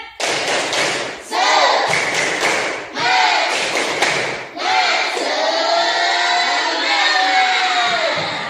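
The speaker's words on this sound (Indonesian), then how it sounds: "Coba tepuk semangat." A class of students claps a rhythmic spirit clap in a classroom, with sharp clustered claps in bursts and chanted shouting voices, loud and close.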